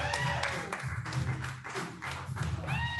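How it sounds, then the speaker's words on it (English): A small comedy-show audience applauds as a monologist comes on, scattered claps and thumps at moderate distance mixed with faint room noise and music. "Give her a round of applause."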